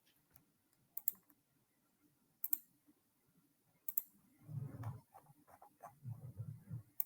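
Sparse computer keyboard typing and mouse clicks, a few separate sharp clicks followed by quieter bursts of keystrokes, close and alone.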